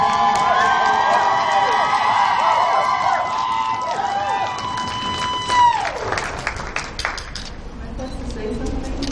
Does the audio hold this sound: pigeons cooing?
no